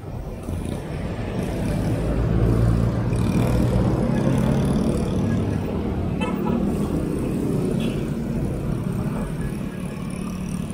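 Dense road traffic on a busy street in Norzagaray, Bulacan, heard from inside a car as a steady loud rumble of engines and tyres, with passing vehicles and occasional faint voices mixed in.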